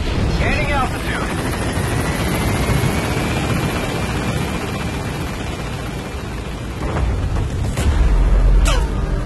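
Helicopter lifting off in Metal Gear Solid V, a loud, steady rotor roar filling the scene with a low rumble building toward the end, a voice speaking over it.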